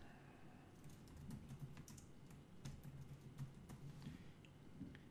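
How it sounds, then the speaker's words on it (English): Steady keystrokes tapped on a computer keyboard while a new list title is entered, a close, fairly quiet run of irregular clicks lasting several seconds with no talking. "type in the title of the new list and hit return"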